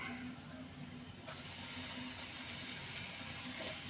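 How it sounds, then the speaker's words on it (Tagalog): Garlic and onion hiss in a hot pan, sautéing for an eggplant adobo, a steady broad sizzle that swells louder partway through and continues without pause. "Ayan, nagisa na natin yung bawang sibuyas"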